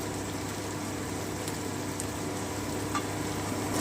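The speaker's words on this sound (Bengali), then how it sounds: "আমি একটু ভেজে নিচ্ছি" Tomatoes and onions fry in a pan with a constant dense sizzle, close and steady, broken by a few faint clicks from stirring, and no voices.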